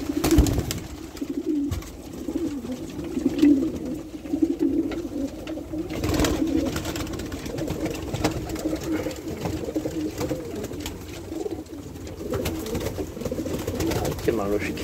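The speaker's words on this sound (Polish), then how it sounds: "bo ja mam gołębi bardzo dużo." Pigeons coo repeatedly in low, throaty murmurs, several birds overlapping nearby, with a person talking faintly in the background.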